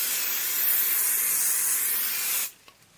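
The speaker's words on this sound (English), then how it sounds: "And then I'm just going to put a little bit more 505 spray." 505 spray adhesive hisses steadily from an aerosol can onto a quilt foundation for about two and a half seconds, close and loud, then cuts off abruptly into near silence with a faint tap.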